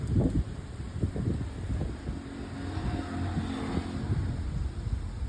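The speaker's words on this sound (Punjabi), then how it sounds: "ਪੂਰੀ ਐਨ ਹਵਾ ਚੱਲ ਰਹੀ ਹੈ ਬੜੀ ਤੇਜ਼" Strong wind buffets the microphone in low, rumbling gusts, steady and rough throughout, with no one speaking.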